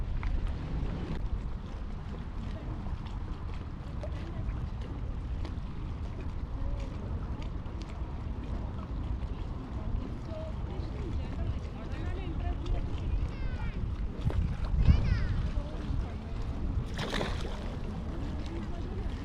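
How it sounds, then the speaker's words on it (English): Strong wind, about 20 miles per hour, gusts over a lake while fishing from a boat, a continuous loud rush buffeting the microphone, with water sounds and brief talk mixed in. "Wind blowing like crazy, guys."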